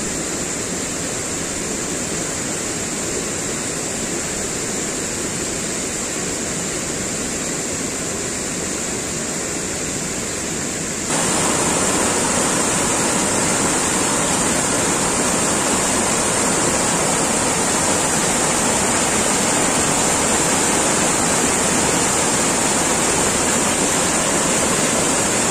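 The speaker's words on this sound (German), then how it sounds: "jetzt hören wir schon im Hintergrund den großen Wasserfall." A large waterfall near the Zillergrund reservoir in the Austrian Alps roars as a loud, unbroken wash of rushing water, growing slightly louder partway through.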